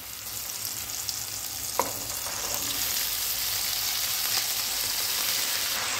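Crushed garlic frying in a pan before amaranth leaves go in, a steady close sizzle that swells louder partway through, with one brief clink, no voices.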